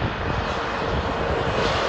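A passenger jet flies over the Illinois countryside near Interstate 72 as thunderstorms build, its engines producing a steady, loud, broad roar that holds even and close for the whole stretch, with no voices.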